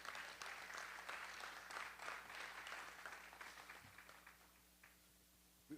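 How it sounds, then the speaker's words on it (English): Audience applause at a community unity gathering in Newark, a steady clapping wash that fades toward the end, with a brief louder burst at the close. "Give him a round of applause."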